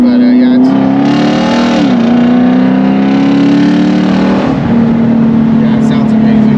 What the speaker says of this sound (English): it's a beautiful car, beautiful sounding car